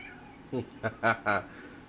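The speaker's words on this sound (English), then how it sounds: "You want to meow." A house cat meows four times in quick succession, each call short, rising and distinct. The cat is near and moderately loud, with no other sound competing.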